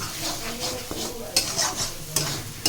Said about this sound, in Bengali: আবার ঢাকা তুলে একটু মেরে চেড়ে নিচ্ছি